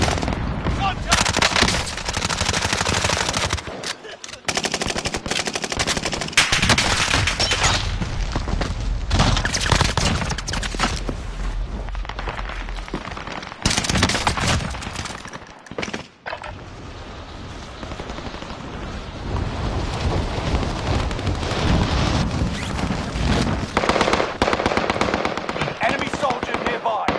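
Continuous automatic gunfire and explosions from the Call of Duty video game, loud dense bursts that run almost without a break, with a brief lull partway through and voices mixed into the din.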